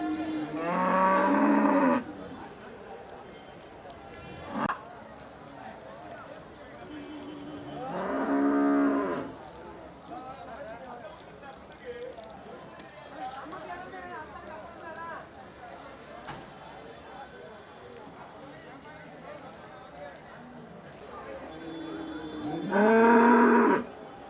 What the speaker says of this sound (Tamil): என்ன அது வண்டி மாடா ஆமா வண்டி மாடு காங்கேயம் காலை